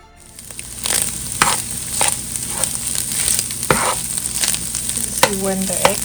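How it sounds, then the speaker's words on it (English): Egg, sausage and onion stir-fry in sausage oil in a pan, with loud continuous sizzling and repeated scraping strokes of a spatula mixing the food. No one speaks. "the oil from the sausage will be fine with the egg, and keep mixing them all together"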